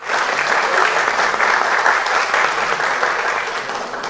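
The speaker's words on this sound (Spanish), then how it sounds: "Un aplauso para ella" A crowd claps steadily in sustained applause, dense and fairly close, tapering slightly toward the end with no clear speech.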